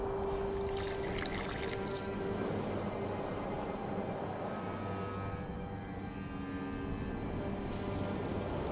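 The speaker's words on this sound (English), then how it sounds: "A bit of water." Water pours steadily in The Witcher 2 video game, a hissing, splashing wash, brief brighter spray at the start and end, over a low hum.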